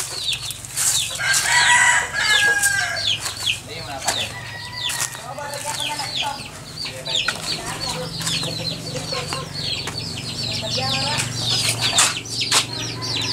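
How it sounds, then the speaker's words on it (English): Two baby ducks peep repeatedly outdoors, a dense run of high, thin chirps that carries on throughout over a low hum of background noise. "Two little baby ducks. I heard you."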